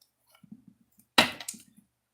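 Tarot cards are shuffled: soft, light riffling taps followed by one louder, sharp burst of cards snapping together, then a few faint trailing clicks.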